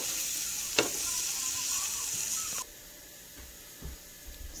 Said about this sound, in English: add the red peppers and onions to the same pan that I sauteed the bacon in. We're just going to saute them until they're nice and soft.